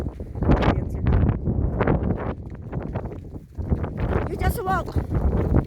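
Outdoors on a cattle farm, gusty wind buffets the microphone with low rumbling bursts while someone shouts and calls out over it, with a brief higher animal-like call near the end.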